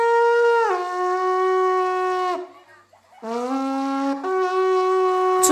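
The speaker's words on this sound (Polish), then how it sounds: "To jest odgłos rogu pasterskiego." A shepherd's horn is blown loudly in long, bright, buzzy tones that slide between pitches, with a brief pause before a second sustained blast, heard close and alone.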